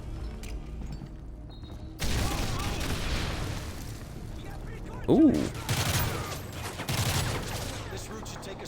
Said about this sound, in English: 9-banger, so I'm guessing it's called a 9-banger because it bangs 9 times